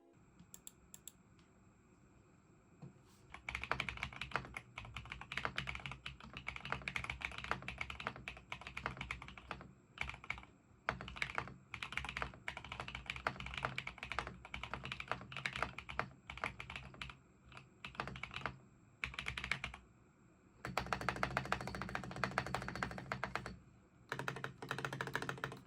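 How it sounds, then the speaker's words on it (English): Steady typing on a hot-swappable mechanical keyboard, close and clear, with rapid clacking keystrokes in bursts and a brief pause before a final flurry. "Here's the sound test, so you can hear for yourself what I mean."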